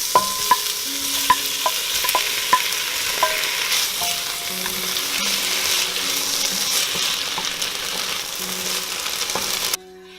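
Onions and tomatoes sizzle steadily in oil in a pan, with a few sharp spoon taps against the pan early on as they are stirred. The frying stays loud and continuous, then cuts off abruptly near the end.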